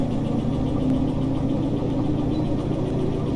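A train locomotive in the Derail Valley simulator powers up, a steady loud low engine rumble with a throbbing, idling character, continuous and close with no talking.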